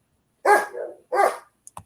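Two loud, close barks from a dog next door, each a husky bow-wow followed by a brief gap, with a couple of small clicks after them and no talking.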